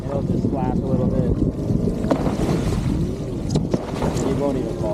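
A Waydoo Evo efoil scooter rides on open water, with a continuous rushing splash and wind buffeting the microphone, loud and steady throughout.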